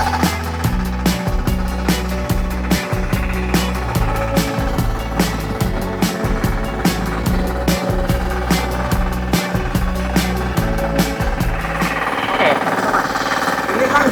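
An FTI2010DE mini four-wheel tractor plows a shallow rice paddy, its engine chugging loudly and steadily with a rapid rhythmic clatter throughout.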